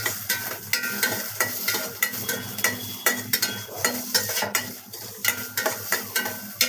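Green chillies fry in a pan until golden, a soft sizzle under frequent rhythmic scrapes and taps of a spoon stirring against the pan, close up and without speech.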